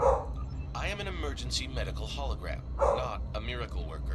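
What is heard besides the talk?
dog barking in the background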